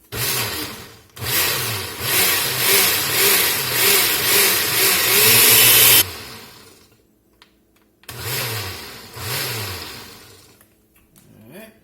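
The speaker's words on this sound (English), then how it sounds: "get them in the blender." A blender whirring through simmered chili pods, a loud pulsing churn that runs about five seconds, stops, then starts again in shorter bursts, close with no talk.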